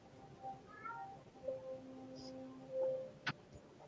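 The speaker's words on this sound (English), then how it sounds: "I hear somebody's kitty." A house cat meows a few times, fairly close and soft, with short tonal calls rising and falling against a quiet room, followed by a brief tap.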